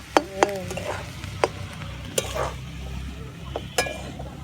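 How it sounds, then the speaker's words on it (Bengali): Eggs sautéed with spices in a pan, sizzling steadily while a utensil scrapes and clinks against the pan in sharp, irregular taps; close and clear. "কষাটা একটু ভালো করেই কষতে হবে"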